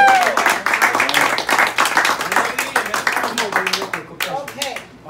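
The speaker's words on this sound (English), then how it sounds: "Let's clap our hands." A church congregation claps hands in a dense, rapid rhythm for about five seconds, with voices talking and cheering over it, tapering off at the end.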